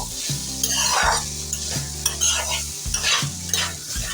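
A spatula stirs and scrapes mixed vegetables frying in a pan under a steady sizzle, in repeated near strokes over a low hum.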